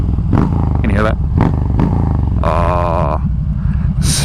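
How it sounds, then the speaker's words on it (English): A Striker motorcycle fitted with a Cobra slip-on exhaust rumbles steadily nearby while a person talks loudly over the engine. "I most recently put on a Cobra slip-on, and it sounds so pretty"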